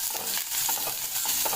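Whole spices sizzle in hot oil for a dal tadka, giving a steady, close, crackling hiss with small pops and spatters and no talk over it.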